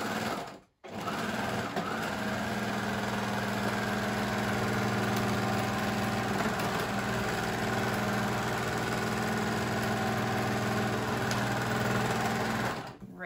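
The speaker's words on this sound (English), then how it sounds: "I think I'm going to do that with the serger." A serger runs steadily as it stitches a sleeve onto a bandana dress, giving a loud, continuous mechanical whir for about thirteen seconds after a brief stop near the start. No one speaks.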